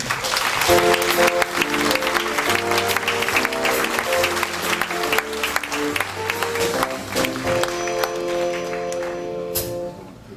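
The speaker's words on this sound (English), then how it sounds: "Please give a big round of applause for our hotel manager, Mr. Brian McNeil." A crowd claps steadily and enthusiastically for several seconds aboard a cruise ship, with upbeat music playing underneath, fading slightly at the end.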